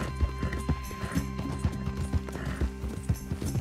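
Horse hooves clip-clop at a steady gallop in Red Dead Redemption 2, a rhythmic series of close thuds over continuous game ambience and a faint tonal hum, with no talk.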